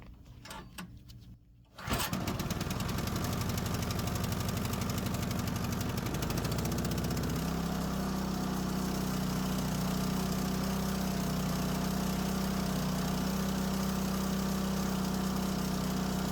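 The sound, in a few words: MTD snow thrower engine starting and idling after pull start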